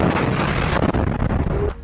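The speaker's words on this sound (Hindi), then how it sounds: "अल कासिम के लड़ाकों ने इस टैंक में रफा में Yasin 105 anti tank RPG fire किए जिसमें बहुत बड़ा धमाका होता है" Merkava tank hit by a Yassin 105 anti-tank RPG in Rafah, a loud close blast and rumbling roar with several sharp cracks and bursts over nearly two seconds.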